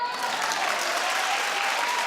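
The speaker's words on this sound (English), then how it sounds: "Clap if you enjoyed Madonna." An audience claps steadily for a couple of seconds at an awards-show recap, a dense, even wash of applause heard alone.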